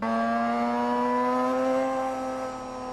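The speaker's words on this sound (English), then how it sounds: "you can actually hear the engine note dip a little bit" A high, tonal Pro Mazda race car engine whine holds steady then dips slightly in pitch and volume toward the end as the throttle eases off.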